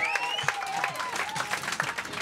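A crowd on a booze cruise off Ibiza claps and cheers in a loose, scattered patter, with whistles and shouts rising over it at a moderate distance.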